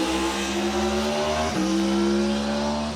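A 2025 Aprilia RSV4 Factory 1100 superbike engine revs hard and loud, a steady high-pitched howl that dips briefly as the throttle blips, then climbs again, heard alone with no talk.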